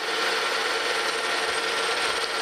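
A lathe spotting a center hole in a workpiece, a steady, dense scraping and whirring cut that runs unbroken and close.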